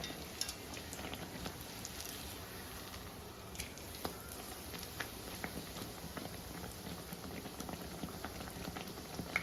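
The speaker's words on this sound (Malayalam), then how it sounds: "ഇല്ലെങ്കിൽ ചൂട് കട്ടിയുള്ള ഉരുളിയാണെന്നുണ്ടെങ്കിൽ 1 കൂടുതൽ ബ്രെഡ് നമുക്കിതുപോലെ പൊരിച്ചെടുക്കാം." Bread slices fry in a heavy pan, giving a soft, continuous crackling sizzle with scattered tiny pops, quiet and steady throughout with no voices.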